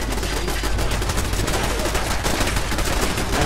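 Automated turret gunfire in Fallout 4 rattles in dense, rapid, continuous bursts inside an abandoned building, loud and close throughout.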